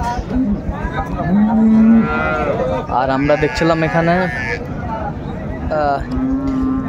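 Improved-breed dairy cows and calves at the Raniganj cattle market in Dinajpur moo loudly and repeatedly, with someone talking over the calls.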